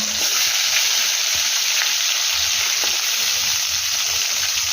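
Potatoes and other vegetables frying in oil over a low gas flame give a steady, dense sizzle that stays loud and even throughout, with faint scrapes of stirring underneath and no talk.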